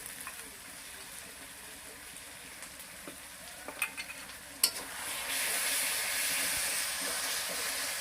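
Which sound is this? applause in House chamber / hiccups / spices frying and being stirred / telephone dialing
spices frying and being stirred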